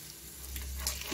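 Potato and egg kebabs fry in a pan over a medium-low flame, giving a soft, steady sizzle with faint crackles across the moment.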